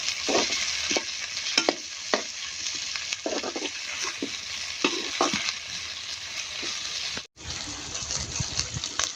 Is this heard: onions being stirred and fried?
yes